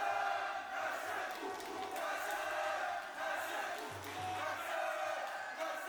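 Spectators roar and cheer around the cage at an MMA bout, a sustained crowd din rising and falling, with a commentator's voice speaking over it.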